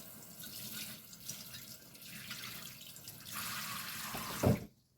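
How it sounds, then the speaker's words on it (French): A courgette is rinsed under a running kitchen tap, a steady splashing hiss of water that grows louder before a short clunk and abrupt silence. "Je vais la passer sous l'eau."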